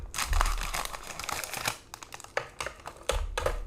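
Plastic packaging crinkles and rustles during the unboxing of an EG Gundam Strike Rouge model kit, a run of close, crackling handling bursts with brief pauses and no talk.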